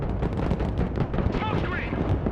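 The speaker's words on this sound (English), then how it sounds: "Engaging targets with direct fire!" Vehicles fire their guns in the video game Broken Arrow, with rough bursts and booms scattered through the battle noise as voices call out over it.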